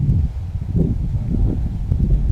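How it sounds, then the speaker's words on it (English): Strong wind, close to 20 miles an hour, blowing outdoors during a hunt, a continuous low rumbling buffet with gusty swells that fills the whole stretch. "The wind's blowing like crazy, close to 20 miles an hour right now"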